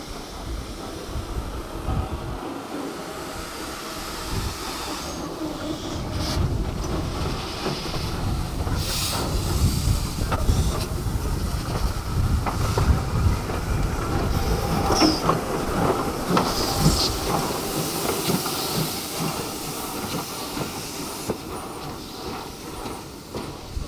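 A steam locomotive double-header train passes on a photo run at Newport Workshops, a long rumbling roll with rhythmic wheel clatter and wind buffeting the microphone. It swells to a loud peak midway, then fades slowly, with no voices.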